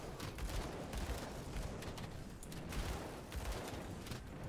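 Continuous rapid gunfire in the Grim Dawn action role-playing game, a dense fusillade of shots striking metal prison bars, steady and loud for several seconds with no talking.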